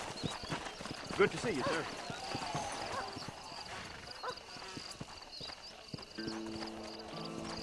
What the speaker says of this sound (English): This steed looks right tetchy